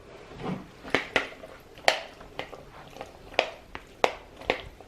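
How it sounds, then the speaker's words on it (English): Chicken salad with chickpeas being stirred together in a bowl, giving a series of sharp, close utensil scrapes and clicks at an irregular rhythm with soft squishy mixing between them, no talking. "all you need to do is mix it all up"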